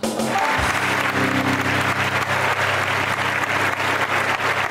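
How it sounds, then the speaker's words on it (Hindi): Studio audience at a Pakistani TV game show breaks into loud, sustained applause that fills the whole stretch, with a low musical hum running underneath. "तालियां बजाने के लिए कह रहा हूं।"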